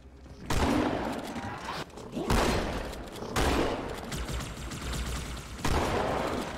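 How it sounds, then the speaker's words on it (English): Sustained bursts of gunfire from the Halo 2 video game, loud and near, in four dense volleys separated by brief lulls, with voices mixed in among the shots. "Suppressive fire!"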